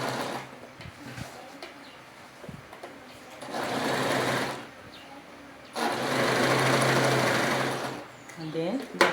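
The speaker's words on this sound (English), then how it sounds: "fold the dart this way and sew till this place" A sewing machine stitches a dart on a pencil skirt in two sustained whirring runs of needle stitching, the second longer and louder, with quieter handling sounds between them and a voice heard around the stitching.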